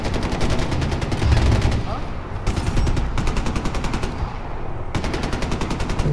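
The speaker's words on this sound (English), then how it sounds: "There's a lot of awful lot of shooting." Rapid bursts of automatic gunfire from the video game Far Cry 4 rattle on and off, loud and dense, with voices murmuring underneath.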